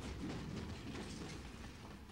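A wooden train clattering along railroad tracks laid on wooden ties, a steady, moderately close rolling rumble with a faint clickety-clack running unbroken throughout.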